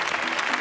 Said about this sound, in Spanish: Esto de entrada se merece un aplauso